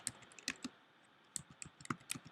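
Quick bursts of keystrokes on a computer keyboard while a blog comment is typed, close and crisp with short pauses between clusters of clicks.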